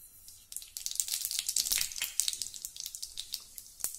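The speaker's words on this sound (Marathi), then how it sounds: "तेल गरम झालं की त्यामध्ये मोहरी घालूया" Mustard seeds sizzling and crackling in hot oil in a large kadhai, a faint steady hiss with irregular sharp pops that pick up after the first half second.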